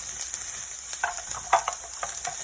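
Chopped onion sizzles as it hits a hot pan for cottage pie, a steady close frying hiss with a few light scrapes and taps from a utensil.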